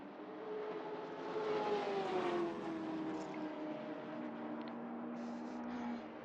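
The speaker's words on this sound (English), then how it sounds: "Wonder if you can hear me over the engine sounds" Vintage race cars at Fuji in Assetto Corsa drone past, a close engine note rising and falling through gear changes as more cars whine by in the background.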